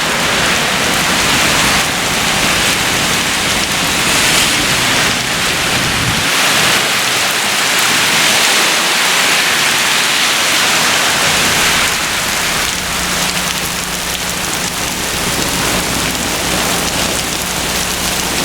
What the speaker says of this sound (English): A lot of heavy rain.